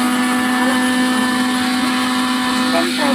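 A kitchen mixer grinder runs steadily with a loud, continuous whine that holds for the whole span, while a voice speaks faintly over it near the end.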